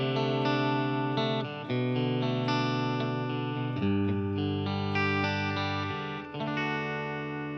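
An electric guitar with its humbucker bridge pickup split to single-coil mode plays clean chords through a Tone Master Pro, ringing bright and sustained with several chord changes, alone and close.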